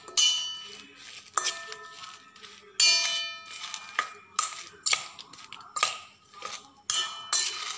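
Raw mango pickle with chilli and mustard powder being stirred in a large bowl, giving repeated clinking, scraping strikes of a spoon against the vessel in an irregular rhythm, close and fairly clear.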